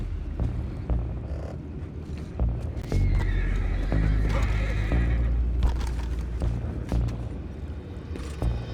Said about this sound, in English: I have the horses under control.